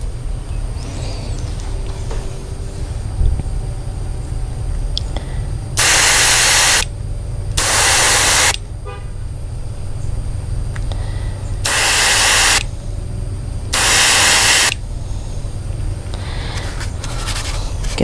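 Spray gun laying down coats on the underside of a small-waters project piece, four separate bursts of steady broadband hiss, each roughly a second or two long, loud and close over a low background hum.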